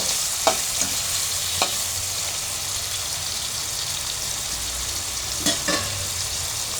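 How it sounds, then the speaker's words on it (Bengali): Oil sizzles steadily in a frying pan as shrimp fry with onion and green chili, broken by a few sharp clinks of a spatula stirring, close by with no talking. "চিংড়িগুলো আগে একটু পেঁয়াজ আর কাঁচামরিচ দিয়ে ভেজে নেব"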